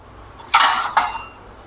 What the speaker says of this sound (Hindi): इस प्लेट की मदद से चावलों को पतीले में ऐड करते हैं